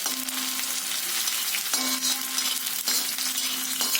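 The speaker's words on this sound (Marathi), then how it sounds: "त्यानंतर दोन मिरच्या आणि तेजपत्ता टाकलेला म्हणजे तमालपत्र" Green chillies and bay leaf frying in hot oil for a matar keema, a steady close sizzle running the whole time with a few light clinks of a spoon against the pan.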